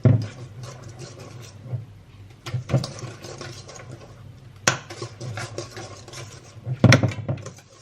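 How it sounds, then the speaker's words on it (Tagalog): A dessert mixture with a little vanilla is stirred in a bowl, with intermittent scraping and clinking of a utensil against the dish. Louder knocks come now and then over a low background, and nobody speaks. "Mix natin maayos."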